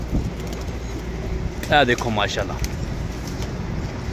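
Pigeons being handled by a pigeon keeper give soft coos against a noisy outdoor background, while someone talks close by over them.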